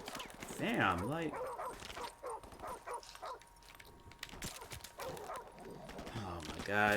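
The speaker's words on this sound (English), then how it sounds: "Dogs in the tall grass." Dogs bark in the video game Modern Warfare Remastered, a few sharp barks and yelps mixed with game sounds while a player talks over them.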